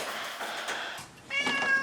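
A cat meows in a home as a woman carries it down a stairway along with bulky bags, giving a few close, clear, drawn-out meows over light rustling.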